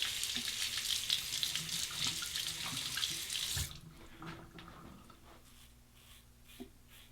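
A Fatip Piccolo combo safety razor is rinsed under a running tap, a loud close hiss of water splashing for several seconds before the flow stops, leaving faint drips and clinks.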